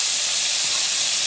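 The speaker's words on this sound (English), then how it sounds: "we're gonna add our chopped up venison heart." Chopped lean venison heart sizzles in a preheated skillet, a steady bright hiss of frying held close and even throughout the short moment, no voices.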